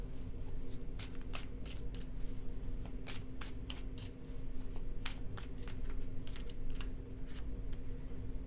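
Tarot cards shuffled and drawn from a deck, a steady papery riffle and flicking with repeated sharp card snaps over a constant low hum, close and fairly quiet, no talking.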